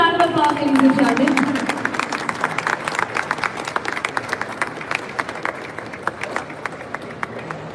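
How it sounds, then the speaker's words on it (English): An audience at the Ashok Leyland engine unveiling at EXCON 2025 claps, loud at first and then thinning into scattered claps that fade, with a voice heard briefly at the start. "Can we have a huge round of applause, ladies and gentlemen?"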